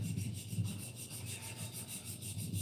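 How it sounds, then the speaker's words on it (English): Sandpaper rubbed over wood, a steady scratchy rasp kept up in close, even strokes with no talking. "That's sandpaper. That's for like wood."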